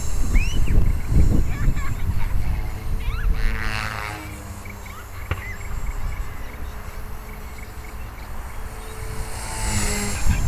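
A 450-size RC model helicopter with a metal head flies loops at high power, its steady whining rotor and motor buzz continuous and fairly loud throughout, with some wind and outdoor background noise.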